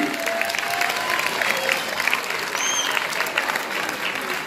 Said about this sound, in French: Alors on peut déjà applaudir